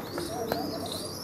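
A pigeon coos softly, a brief low call amid faint background noise.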